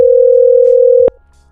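A VoIP phone call placed through a FreePBX system to extension 3434 gives a single steady, loud electronic tone that holds for about a second before cutting off abruptly, followed by quiet.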